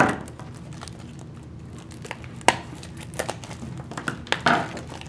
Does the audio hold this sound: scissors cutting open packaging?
yes